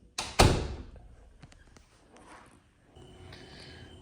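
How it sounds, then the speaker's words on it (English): A door in a house's garage opened: a sharp latch clack and a heavy thud at the start, a few lighter knocks and rattles, then a quiet room hum. "It was the last door that I didn't open in the garage."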